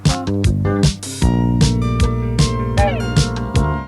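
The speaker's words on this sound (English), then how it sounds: "And on B, I sent the mix through the Sonic Maximizer," A full music mix processed through a BBE Sonic Maximizer 282iR plays loud and bright, with punchy drum hits and bass pulsing in a steady groove under sustained tonal instruments.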